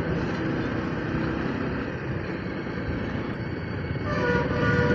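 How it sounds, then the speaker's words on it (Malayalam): A Tamil Nadu superfast bus honks along the road between Trivandrum and Kumaracoil, its horn blaring loudly near the end over steady engine and traffic rumble heard from a moving motorcycle. "മറ്റേ സൂപ്പർ ഫാസ്റ്റ് തമിഴ്നാട് ഒരേ ഹോൺ അടിയാണ്"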